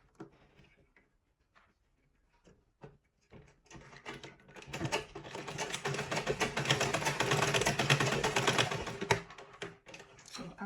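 A sewing machine stitches a beret, first in scattered short ticks, then running steadily and loudly for several seconds before stopping.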